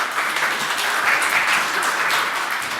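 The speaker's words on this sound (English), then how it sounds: "please, a round of applause for our presenters" An audience at a talk on the Paris Olympics gives presenters a steady round of applause, dense clapping filling the room evenly throughout.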